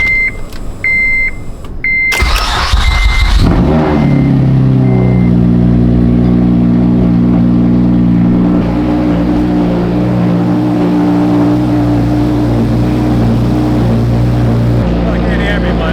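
A boosted Acura TL-S fires up after a few warning chimes: the starter cranks, the engine catches with a loud rev, then settles into a steady, close, rumbling idle.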